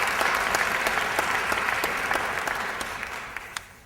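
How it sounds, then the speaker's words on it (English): Audience applause at an Aspen Institute event, a steady crowd of clapping hands that slowly fades toward the end, with a few distinct individual claps standing out. "So I wish we'd give them a big round of applause"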